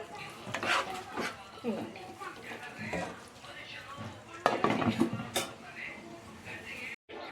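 Curry being stirred in a pot, with a spoon scraping and clinking against the metal in irregular strokes, close and moderately loud, with a voice talking over it.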